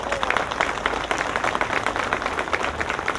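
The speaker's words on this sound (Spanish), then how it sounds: "¡Un aplauso!" A church gathering of the Virgin of Juquila brotherhood breaks into steady, dense applause, many hands clapping together throughout with a lively crowd feel.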